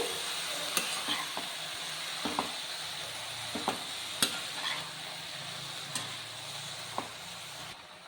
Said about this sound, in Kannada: ಇದನ್ನು ನೀಟಾಗಿ ಮಿಕ್ಸ್ ಮಾಡ್ಕೊತೀನಿ.